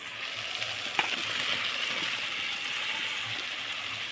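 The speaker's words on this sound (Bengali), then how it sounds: "এবার টুকরো করা এই আলুগুলো দিয়ে দেব।" Cut potato pieces drop into a spice paste frying in oil, giving a steady, fairly quiet sizzle with light clattering and crackling, and a small sharp clink near the start.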